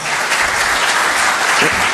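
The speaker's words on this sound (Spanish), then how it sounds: "un aplauso para Manuel" Sustained audience applause at a safety seminar, a thick continuous wash of many hands clapping at close range and fairly loud throughout.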